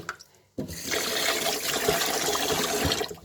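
Beans are washed by hand in a bowl of water, a continuous sloshing and splashing of water and beans that begins abruptly and carries on evenly and close by for a few seconds.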